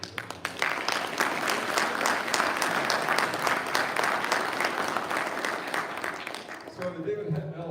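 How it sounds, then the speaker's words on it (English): Sustained applause from a graduation ceremony audience, dense and steady for several seconds before tapering off near the end. "So another round of applause"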